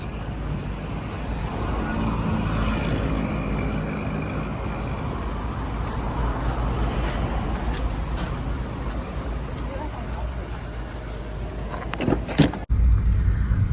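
Riding inside a car along a road, a steady low engine and tyre rumble with passing traffic noise, continuous and fairly loud, with a couple of short knocks near the end.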